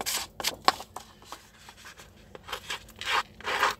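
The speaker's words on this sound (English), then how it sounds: "I'm just gonna brush the edges with my scissors." Light scraping and rubbing strokes of scissors brushing along paper edges, coming in short irregular bursts, close and fairly quiet.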